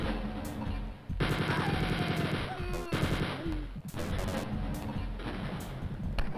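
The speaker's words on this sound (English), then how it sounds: "Use my missile launcher on these" Rapid missile launcher fire and explosions against guards inside a video game's corridor room, loud repeated bursts and crashes running nearly continuously with brief gaps, no talking.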